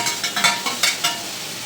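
Vegetables sautéing in a pan for idli sambar, a close, soft sizzle broken by several quick rhythmic stirring scrapes, with no talking.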